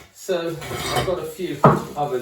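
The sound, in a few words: terracotta pot crocks clinking while handled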